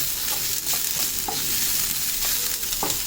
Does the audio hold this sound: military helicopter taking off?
no